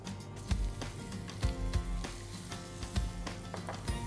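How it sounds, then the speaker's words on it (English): Garlic sizzles in hot oil in a pan as the base for an Indian-style wheat pasta in pumpkin sauce, a steady close frying hiss broken by a few soft knocks and stirring clatters. "we'll heat the pan, add some oil, so oil is nicely hot, we'll add garlic"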